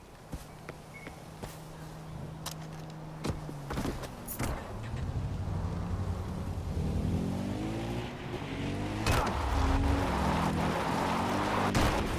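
A car driving in Far Cry 4, its engine droning steadily and building in pitch and loudness toward the end, with some clicks and thuds over the top.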